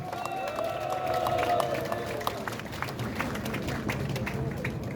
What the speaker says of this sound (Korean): 다 같이 일괄 그냥 박수로 함께 해주시면 감사하겠습니다.